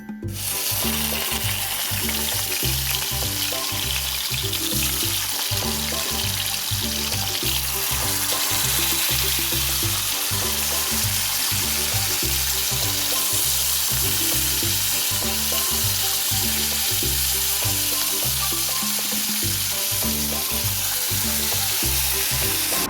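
Pieces of rui fish fry in hot oil in a wok, a steady loud sizzle with crackling and some clattering from turning, sustained throughout with no talking.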